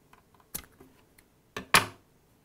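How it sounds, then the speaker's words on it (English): Scissors snip through the cotton wick of a rebuildable DID atomiser, trimming it just above the top nut: two sharp, close clicks after a few faint handling taps, the second cut louder. "I'm just going to take a pair of scissors and just cut the wick so it's just above the top nut there."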